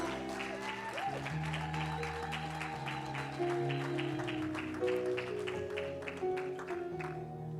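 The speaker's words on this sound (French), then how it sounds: "Réellement, est-ce que tu peux acclamer le Seigneur pour la parole?" Church congregation applauding the Lord, a sustained patter of clapping under music with tonal held notes, continuous and moderately loud throughout.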